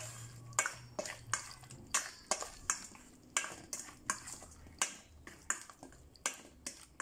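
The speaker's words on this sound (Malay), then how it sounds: "Okey, sekarang saya nak gaul." A utensil mixes yong tau foo ingredients in a pan or bowl with a steady run of quick, light scraping clicks, soft and evenly spaced throughout.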